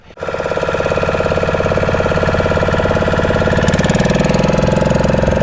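A boat engine drones steadily during a ride at Parikhi sea beach, a loud, close, rhythmic chugging with a throbbing pulse that holds constant throughout after a brief start, with no voices.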